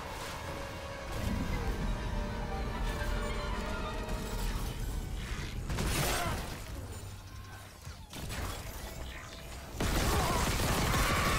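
Elevator machinery in the horror shooter Dead Space, a sustained mechanical grinding and rattling hum with creaks and a few heavy metallic clanks and shifts, ending in a louder rumbling stretch, with no talk.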